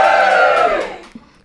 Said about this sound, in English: And give us a cheer for cheese.